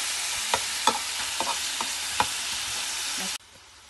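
Meat and onions fry in a pot with a close, steady sizzle broken by several sharp spoon scrapes and taps, until the sound cuts off abruptly near the end.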